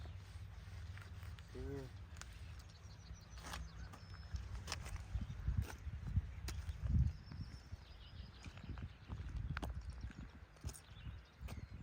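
Shod working horses are led along, their hooves giving faint, irregular clip-clops at a distance while people talk nearby.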